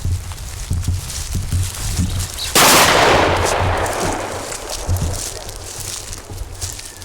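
A single loud gunshot fires during a hunt with a dog, a sharp blast that trails off into a long rolling echo outdoors, with rustling and footsteps before it.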